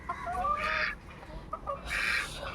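Chickens clucking close by in two bursts of busy, overlapping calls with a short lull between, at a rural homestead where trees and bamboo have been cut back.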